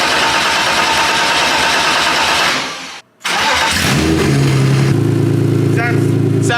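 BMW E30 with a swapped S54 engine on an open header, loud and close: it cranks, cuts out briefly, then catches and settles into a raw, steady idle with a sharp blip near the end.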